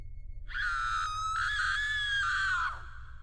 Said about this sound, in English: She screamed,